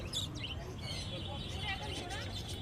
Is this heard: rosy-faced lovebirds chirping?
yes